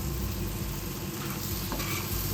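Sardine curry with raw plantain and tomato in a pan, a steady sizzle and soft stirring running throughout, close and even, with one brief clink near the end.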